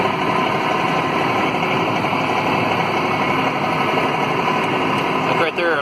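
A Mahindra 2555 tractor fitted with a County Line straight blade, pushing snow, its diesel engine droning steadily and loud throughout, with a brief dip near the end.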